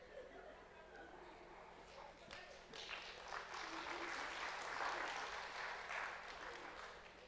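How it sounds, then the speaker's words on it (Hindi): Audience applause swells and fades at a spiritual-motivational talk, steady mid-level clapping with crowd murmur underneath, rising toward the middle and tapering off. "किसके लिए ताली बजाया?"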